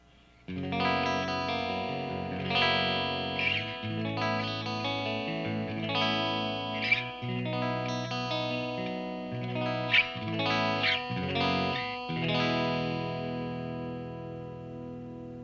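Clean electric guitar played through a Marshall JMP-1 preamp with no effects, sustained chords and single notes ringing clearly and fairly loud, alone for about fifteen seconds.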